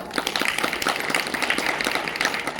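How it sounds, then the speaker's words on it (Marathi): A crowd claps loudly and continuously at a devotional kirtan gathering, a dense, even burst of many hands close by. "एकदा सगळ्यांनी जोरात टाळ्या वाजवा आपण"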